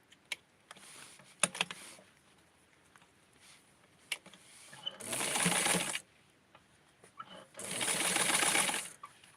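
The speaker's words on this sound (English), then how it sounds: "I'm going to sew it from the bottom up this time." Two loud, steady bursts of a sewing machine stitching a doll's bathing suit, each about a second long, separated by quiet clicks and handling noises.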